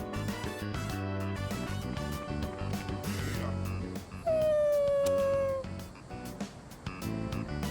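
Koromaru, the dog in the game Persona 3 Reload, lets out a clear, high sustained whimpering howl lasting about two seconds over game background music.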